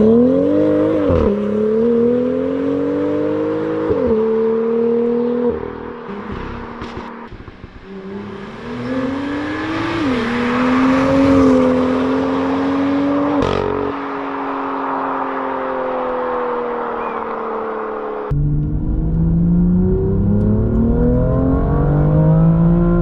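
A Litchfield-tuned BMW M2 engine revs and accelerates hard through several rising gear pulls, with a deep, aggressive note, close and loud and without speech.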